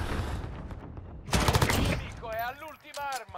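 A rapid burst of automatic M4 rifle fire in Call of Duty: Modern Warfare, followed by a voice speaking over lingering game noise.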